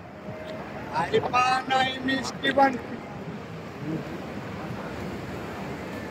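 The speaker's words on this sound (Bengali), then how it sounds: "এই যে এগুলো সব ঢেউ" Sea waves on the beach at Cox's Bazar at night make a steady, broad surf roar and wash that runs throughout, with voices talking briefly over it early on.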